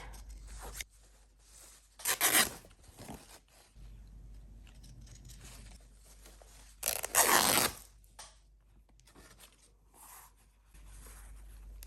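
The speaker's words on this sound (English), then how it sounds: "So let me tear that." Paper for a junk journal, marked with washer imprints, is torn by hand in two short, close ripping bursts separated by quieter handling noise.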